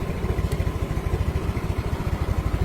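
A Yamaha Mio M3 scooter engine idles steadily with the battery disconnected, a close, even mechanical chug with regular rapid pulses and no voices.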